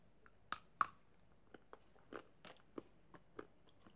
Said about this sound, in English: Crunch. It is soft. It does melt.